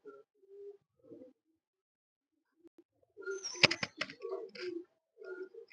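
Pigeons of mixed breeds kept on a loft roof give soft, scattered coos and calls, with a brief burst of fluttery bird activity midway, moderately near and otherwise quiet.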